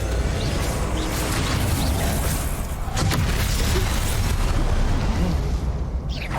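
Fiery Confringo spell blasts in Hogwarts Legacy combat, a dense, loud roar of booming explosions with a sharper burst near the middle and constant crackling spell effects throughout.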